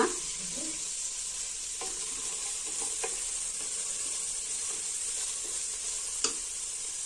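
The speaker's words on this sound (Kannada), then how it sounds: "ಸ್ವಲ್ಪ ಫ್ರೈ ಆಗಲಿ" Mushroom biryani masala with coriander leaves and turmeric fries steadily in a pan, a continuous close sizzle with a few faint scrapes and taps of a spoon, no voices.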